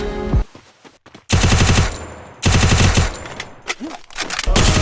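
Machine-gun fire in a shooting video game, rapid bursts of automatic shots broken by short pauses, loud and close, with brief game sounds between bursts.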